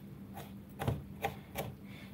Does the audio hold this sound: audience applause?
no